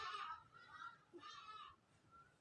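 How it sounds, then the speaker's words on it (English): A bird, probably a crow, caws outside an open door in a few rough, raspy calls, faint and distant in a quiet room. "There is a bird outside making noise, don't worry."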